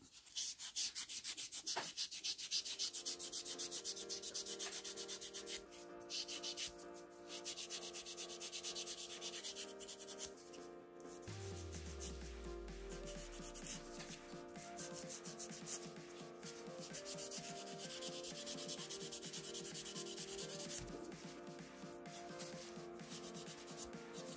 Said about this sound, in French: je finalise avec mon buffer. En premier, le gros grain et ensuite le grain fin.